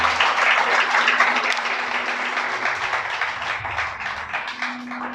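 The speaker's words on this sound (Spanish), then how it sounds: "Dale un aplauso al Creador." A church congregation claps steadily during a Sabbath sermon, a dense, fairly loud wash of applause sustained throughout with no pauses, a faint low hum underneath.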